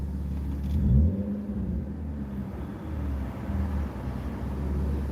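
BMW E36 sedan engine idling with a steady low rumble, swelling briefly in a short rev near the start before settling back to an even, close running drone.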